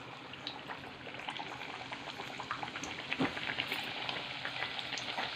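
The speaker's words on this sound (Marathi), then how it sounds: "आता मी पूर्ण पुऱ्या तळून घेते" Onion, potato and wheat puris deep-frying in hot oil, a continuous soft sizzle and bubbling at close range with small pops and a brief spatter burst partway through.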